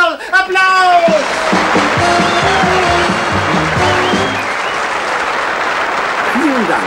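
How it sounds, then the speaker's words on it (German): A studio audience applauds and cheers for a comedian on the Muppet Show, dense clapping beneath a voice as he speaks over it, the applause continuing steadily after he stops. "Applaus!"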